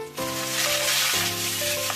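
Capsicum, onion and tomato fry in a pan with a loud, continuous sizzle over a steady low hum, with no voices.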